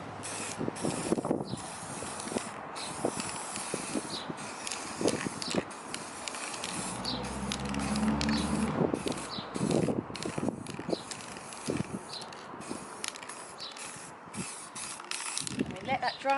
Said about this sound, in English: the next stage is just to spray it